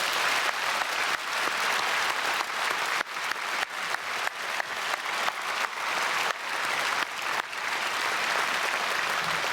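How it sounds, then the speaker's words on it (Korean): Church congregation clapping during a special early-morning service, a broad sustained round of applause with a few rhythmic surges, fairly loud and filling the whole stretch without talk. "우리 크게 박수하겠습니다."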